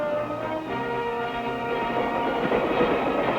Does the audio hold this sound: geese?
no